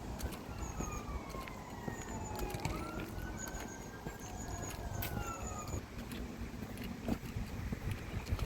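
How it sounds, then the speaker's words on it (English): Emergency sirens wail in the distance during a canal-side walk near Wigan, their rising and falling tones faint and drawn out over a steady outdoor hum, with no one talking. "You can hear sirens in distance."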